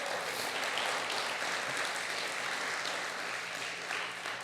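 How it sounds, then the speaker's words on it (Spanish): Church congregation applauding during a Spanish-language sermon, a steady, even wash of many hands clapping at moderate level, heard from a little distance throughout. "¿Cuántos le dan un aplauso al Señor?"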